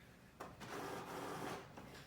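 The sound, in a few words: printer printing a shirt transfer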